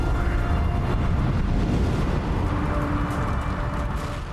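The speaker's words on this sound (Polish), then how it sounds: "Kilka sekund po pierwszym wybuchu usłyszeliśmy drugą potworną eksplozję." A loud, sustained rumbling blast, like a massive explosion rolling on for several seconds, dense and roaring with no clear pauses, from the Chernobyl reactor explosion.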